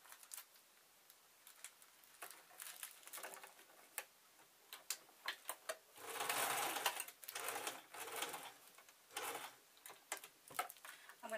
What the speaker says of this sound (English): I'm going to sew over the top